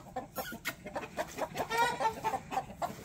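Chickens cluck in short, uneven bursts around a farmyard, soft and fairly close, with no one speaking.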